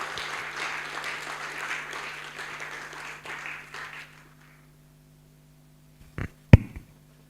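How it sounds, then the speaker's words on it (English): Audience applause at a student anti-corruption awards ceremony, a moderate spread of clapping that fades out after about four seconds, followed by silence and a few sharp knocks near the end. "A bigger round of applause until he reaches here."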